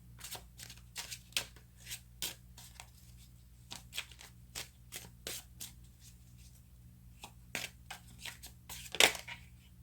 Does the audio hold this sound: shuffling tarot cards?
yes